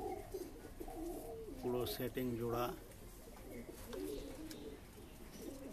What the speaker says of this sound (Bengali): এটা শাহজাহানপুরি পায়রা, যেটাকে আমাদের এখানে বিহারি পায়রা বলে, কালো সবুজও বলে